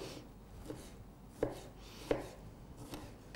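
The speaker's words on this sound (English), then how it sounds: "We're dicing them up a second time." A knife dices strawberries on a cutting board, making a series of soft, irregular chopping taps with a few sharper knocks, close and moderately quiet, with no voices.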